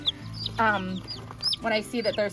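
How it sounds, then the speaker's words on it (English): A Rhode Island Red chicken clucks in short, close bursts, with a few rising squawky notes between clucks. "This is a Rhode Island Red."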